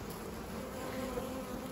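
Honeybees from a swarm buzz steadily around a hive outdoors, a continuous close insect drone with no talk over it.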